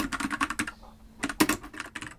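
Fingers typing on a computer keyboard, quick close clusters of key clicks with a brief pause in the middle before the tapping resumes.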